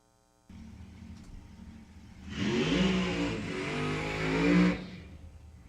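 A drag racing car's engine idles, then revs hard and holds high RPM for a few seconds before dropping back. The roar is loud and close at a race event.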